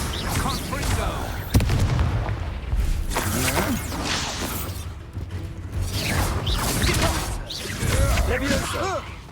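Confringo fire spell blasts cast repeatedly in the Hogwarts Legacy video game, several bursts and whooshing booms across a busy game soundscape, with a voice speaking between them.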